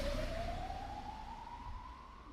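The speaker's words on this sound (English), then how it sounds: "wailing of multiple sirens in the distance." Sirens from police cars, fire trucks and ambulances across a city wail in the distance, a single rising tone clearly audible over a dense, steady wash of far-off city noise.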